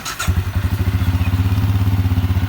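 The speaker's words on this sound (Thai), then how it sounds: "สตาร์ทติดง่ายนะครับผม" A used Benelli Imperiale 400 motorcycle with about 14,000 km fires up after a brief starter whir and settles straight into a loud, close, steady thumping idle.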